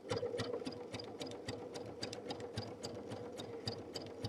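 A sewing machine with a braiding foot couching yarn, running at a steady pace with a rapid, even ticking of the needle and a low motor hum, close and quiet, with no voice.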